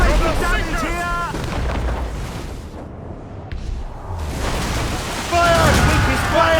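Naval cannon fire in the video game Assassin's Creed Rogue, heavy booming blasts and rumbling broadside volleys amid a chaotic sea battle, loud and close, with shouted voices over the fighting and a brief quieter lull midway.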